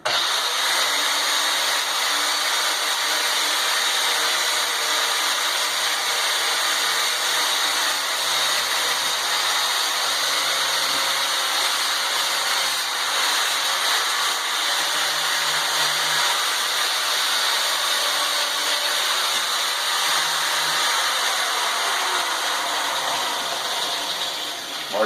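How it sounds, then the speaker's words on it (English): A power wire wheel grinds steadily against a steel ball peen hammer head, a loud continuous whirring scrape with a high metallic hiss that holds nearly unbroken for the whole stretch. "Clean it up with the wire wheel"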